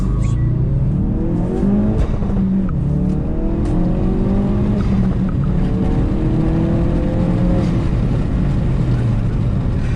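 A Ford Focus RS with all-wheel drive accelerates hard at full throttle, loud engine roar climbing through rising revs with brief shift dips, heard from inside the car over constant road noise.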